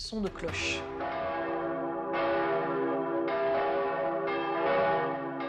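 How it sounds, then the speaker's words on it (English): Church bells ring out loudly and continuously, several bells overlapping in a rich, sustained clangor with repeated strikes swelling throughout. "is followed by a raging of bell sounds"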